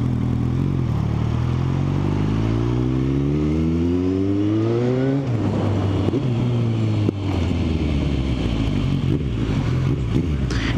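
Motorcycle engine revving hard close by, its pitch climbing in long rising sweeps, dropping back, then climbing again, loud and continuous with no talk.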